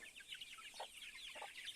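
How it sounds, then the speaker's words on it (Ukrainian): Young chicks of different sizes raised on the same feed give a steady stream of high, rapid peeping and soft clucking, close but fairly faint, with nobody talking. "О, що ж у цих курчат цікавого?"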